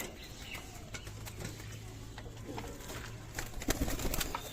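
Low, soft cooing of black-headed pigeons murmurs steadily beneath a busy background with occasional flutters, fairly close and moderately quiet.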